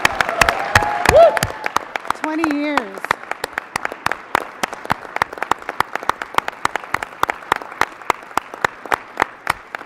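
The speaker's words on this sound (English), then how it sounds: "Let's give them a round of applause." Commission meeting audience applauding two tourism agency employees: sustained crowd clapping with crisp rhythmic claps, a brief spoken phrase near the start over it.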